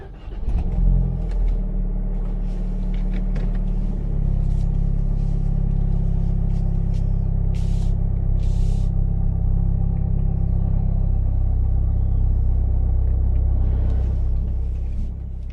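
Steady low engine rumble and road noise from inside a moving car, continuous and fairly loud throughout with no talking.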